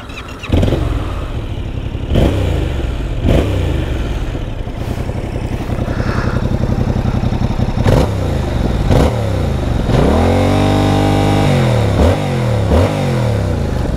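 A 2024 Yamaha MT-07 motorcycle starts and is revved, giving a loud, close burble broken by several sharp throttle blips that rise and fall, with one longer rev near the end.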